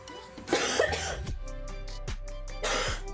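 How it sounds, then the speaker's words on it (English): A person who is still sick with a cold coughs a few times, close and fairly loud, in short harsh bursts separated by brief pauses. "I will be coughing a little bit in and out of the stream"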